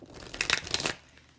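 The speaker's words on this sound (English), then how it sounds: "I really wanted to shuffle." Deck of tarot cards shuffled by hand, a quick second of papery riffling and crinkling close up, quiet and alone before it fades out.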